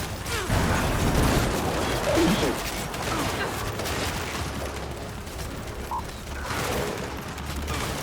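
Turret gunfire in Gears 5 in a dense, continuous rattle of bursts mixed with mechanical clatter and battle noise, with shouted voices over the top.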